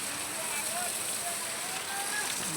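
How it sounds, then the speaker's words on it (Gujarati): A steady downpour in Jesar, Gujarat, hisses for a couple of seconds, with faint voices in the background. "જેસરમાં ધોધમાર વરસાદ પડે છે"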